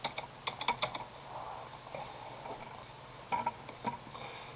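Short bursts of typing on a computer keyboard, with a quick cluster of clicks at the start, a quieter gap, then another flurry of keystrokes near the end, alone without talk.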